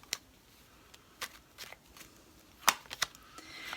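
Tarot cards shuffled and drawn, heard as a few quiet, scattered papery flicks and riffles with short pauses between them, close by and without any talk.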